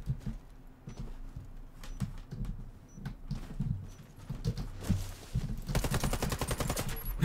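Gunfire from the F90 MBR rifle in the shooter game Warface crackles in scattered shots and short bursts, building to a dense rapid volley toward the end.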